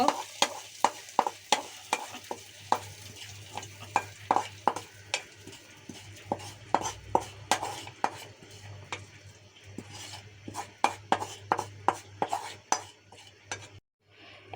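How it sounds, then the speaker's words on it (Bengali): Khichuri with gourd, lentils and aromatic rice being stirred and mixed in a pot, with rapid clinking and scraping spatula strokes against metal over a low sizzle, close up and steady with no talk. "এখন আমি মিশিয়ে নিব"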